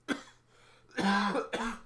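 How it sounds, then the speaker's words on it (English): Three deep, chesty coughs close to the microphone: one short cough, a pause, then a longer heavy hacking cough followed by another. "It's like that deep cough that comes from down here."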